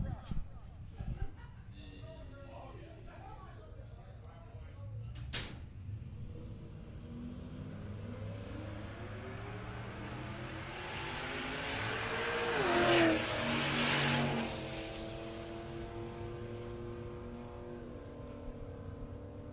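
Drag racing cars and trucks, including a 2000 Chevy Silverado, launching and accelerating down the strip at Mo-Kan Dragway, a distant engine roar rising and sweeping past, with an announcer talking over it.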